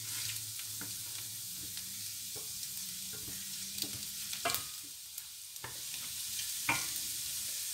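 Potatoes and bell peppers sautéing in a pan for an aloo shimla mirch bhujia, a steady sizzle with several brief spatula scrapes and stirring clicks, close and continuous, with no talk.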